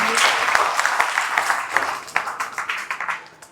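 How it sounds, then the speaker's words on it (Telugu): A short burst of clapping from a small group, a few seconds of scattered hand claps that trail off toward the end. "మనం చప్పట్లు కొట్టాలంతా"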